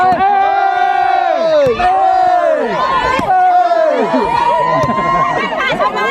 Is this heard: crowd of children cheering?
yes